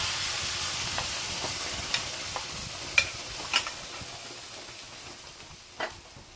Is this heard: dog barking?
no